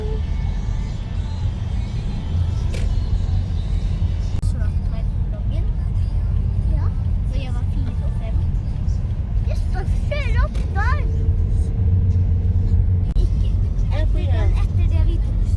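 Road traffic hums steadily beside a Norwegian park, a constant low rumble of cars and a bus with passing swells, while people and children chatter over it throughout.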